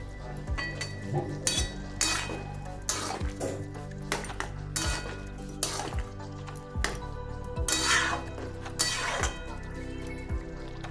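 Metal utensil scraping and clinking against a pan as egg is stirred into bottle gourd curry, with repeated strokes at a steady rhythm over a low cooking hum, close and moderately loud.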